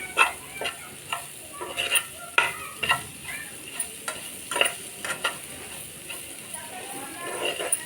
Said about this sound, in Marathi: मस्तपैकी असं त्याला परतवून एकदम घ्यायचं.